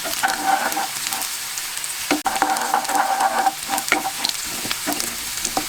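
Spices sizzling in hot oil for a chhonk tempering, a loud, close crackle and hiss with stirring scrapes through it and no talking.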